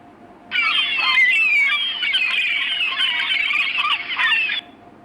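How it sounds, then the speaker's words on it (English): A seagull squawks in a continuous, harsh run of high cries lasting several seconds, close and loud, with no voices. "Seagull."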